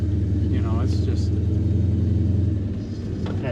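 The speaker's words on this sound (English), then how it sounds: "It's got a great sound coming out of the dual exhaust" A fuel-injected 360 cubic inch V8 in a 1967 Plymouth Belvedere II idles through dual exhaust with a steady, throbbing low rumble. It stays loud and even, with a brief voice near the start and another near the end.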